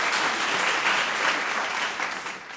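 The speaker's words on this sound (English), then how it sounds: "Please give them a round of applause." A school quiz audience applauds junior high teams at the end of a round, a loud, dense and steady wash of clapping from many hands that thins slightly toward the end.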